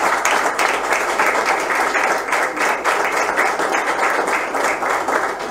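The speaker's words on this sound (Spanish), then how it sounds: "Fuerte el aplauso para ellos." Applause at a 70th anniversary celebration for a radio station in General Madariaga, with a dense, even patter of many hands close by. The clapping carries at full strength throughout with no voices on top.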